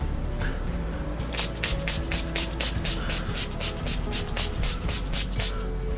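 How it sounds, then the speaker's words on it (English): Rapid pumps of a fine makeup setting spray mist, about fifteen short hissing bursts in a steady rhythm, close and fairly soft over a faint background hum. "And I also like to go in with a setting spray."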